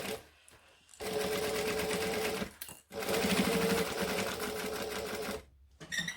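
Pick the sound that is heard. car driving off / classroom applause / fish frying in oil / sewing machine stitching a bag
sewing machine stitching a bag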